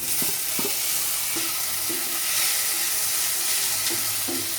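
Chopped tomato hits browned garlic and onion in a hot pan while cooking baigan bharta, raising a steady loud sizzle with periodic stirring scrapes and taps, and no talking.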